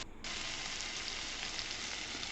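Pumpkin stems cooking in a pan with mustard and poppy seed paste, giving a steady, close, continuous sizzle with a brief quieter moment at the start and no talking.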